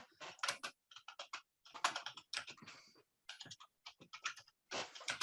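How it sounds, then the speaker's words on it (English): Someone types on a computer keyboard during an online meeting, close, quiet bursts of rapid key clicks separated by short pauses. "I can hear you typing."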